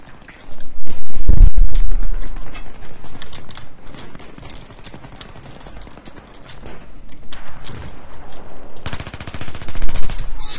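MTAR-21 rifle fire in Battlefield 3, with a loud opening burst followed by repeated rapid shots and further bursts of automatic fire across the stretch, close and punchy, with no speech.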